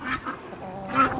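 Ducks quacking by thawing ice in a village yard, a few soft nasal quacks spread over a second, moderately distant, over a faint steady background hum.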